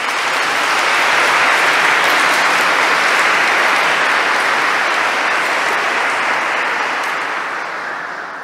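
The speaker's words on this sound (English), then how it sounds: "I think we could give you all a big round of applause" Sustained audience applause at a diocesan award ceremony, a dense crowd clapping loudly and steadily for several seconds before beginning to taper off at the end.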